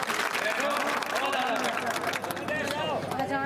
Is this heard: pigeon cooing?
no